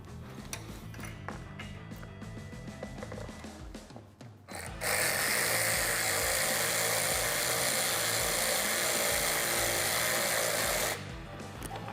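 A power tool whines in one loud, sustained burst of about six seconds, tightening the fan-shroud hardware on a Can-Am Maverick X3 front bumper, with quieter shop noise before it.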